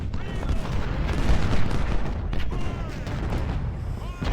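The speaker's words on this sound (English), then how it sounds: "The artillery's still doing its job at the back." Battlefield artillery in Ultimate General: Civil War booms on and off beneath dense, continuous gunfire and rumbling combat noise, a loud and busy mix that never clears.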